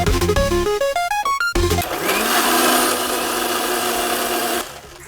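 A blender mixing a smoothie of water and milk starts with stuttering pulses, then roars at full speed in a loud, steady whir before cutting off near the end.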